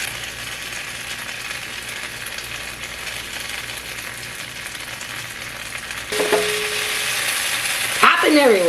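Salmon burgers frying in a pan with jerk sauce, a steady broadband sizzle of popping oil throughout, growing louder near the end with a few sharp spatters and a brief clatter of utensils.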